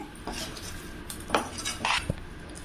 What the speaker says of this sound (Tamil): நல்லா கிளறி விடலாங்க